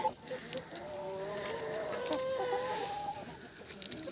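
Chickens clucking nearby in a vegetable garden in short, uneven calls over a steady outdoor background hum, with a few sharper clicks and bumps scattered throughout.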